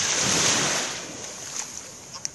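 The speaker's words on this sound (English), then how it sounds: "We're in the Indian Ocean" Indian Ocean surf washes onto the beach at Saint-Gilles-les-Bains on Reunion Island's west coast, a broad rushing hiss mixed with wind buffeting the microphone, fading slightly toward a few small splashes.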